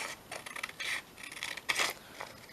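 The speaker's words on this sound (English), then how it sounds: "Let's just cut this out." Scissors snip through paper for a vintage shabby-style journal in a series of close, crisp cuts and rustles, irregular in rhythm and moderately quiet, with no talking.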